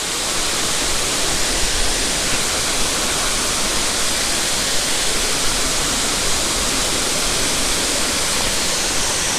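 Areekal waterfall in Ernakulam during a low-water season, a steady, dense roar of falling water with no change for the whole stretch, close and loud with no voices.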